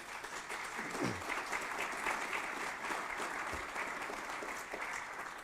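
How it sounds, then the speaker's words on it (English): An audience at the 2022 Truman Medal for Economic Policy event claps for the sponsors, giving a sustained, moderately loud round of applause from a crowd in a hall, with no talk over it. "if you'd give just a little round of applause for them"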